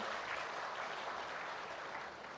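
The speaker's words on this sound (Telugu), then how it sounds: "అందరూ గట్టిగా చప్పట్లు కొట్టమని కోరుతున్నా" A public meeting crowd applauds to welcome the district collector: a steady, dense wash of many hands clapping at once, heard from a distance and fairly faint, with no voices over it.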